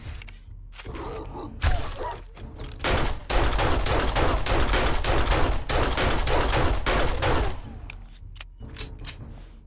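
Rapid gunfire in the video game 7 Days to Die: a few single shots, then sustained bursts of automatic fire, loud and close, tapering into scattered shots and clinks.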